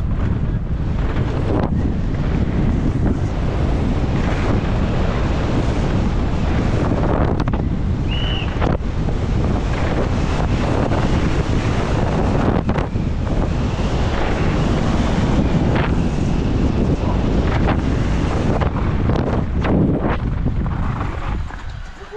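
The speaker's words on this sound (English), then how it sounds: "Definitely got a bit windy." Strong wind buffeting the microphone on a downhill mountain bike course at Red Bull Hardline, a loud continuous rumbling roar with gusty surges throughout.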